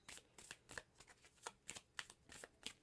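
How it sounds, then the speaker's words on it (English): A deck of tarot-style cards is shuffled close by in quick repeated riffles and slides, a rhythmic papery rustle of about a dozen bursts, quiet and alone. "So while I'm finished shuffling, just pat yourself on the back."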